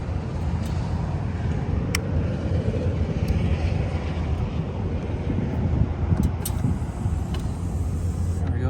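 A 2021 Harley-Davidson Street Glide with slip-on exhausts idling, a steady deep rumbling engine note that stays constant and close, with wind buffeting and a few faint clicks.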